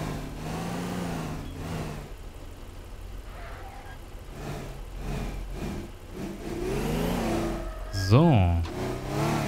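A car engine drives in the Teardown video game, a steady mid-pitched hum with rises in revs running beneath someone talking in German.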